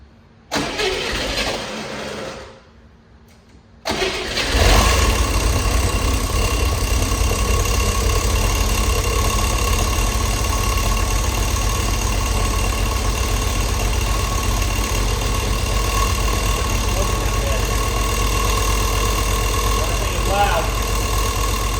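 An old car engine cranks and catches after a brief cut, then settles into a steady, loud idle close by, running continuously with the fan belt refitted.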